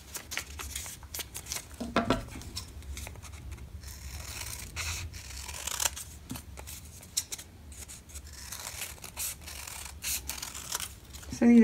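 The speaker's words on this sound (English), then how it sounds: "I'm going to cut out four leaves at the same time." Scissors snip through folded paper to cut out four leaf shapes at once for a pineapple pen pot craft, a steady series of close, crisp cuts and rustles over about twelve seconds, with occasional quiet speech.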